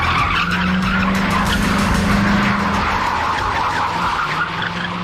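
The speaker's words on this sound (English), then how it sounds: "In one shot, Keanu is going to drive up and basically slide his car into Avi." A car sliding and skidding through a stunt drive on a film set, continuous loud tire squeal and roar from start to finish, close and with no talk.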